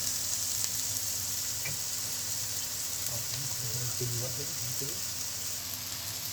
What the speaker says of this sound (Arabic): نديله تقليبتين كده لحد ما تشوح شويه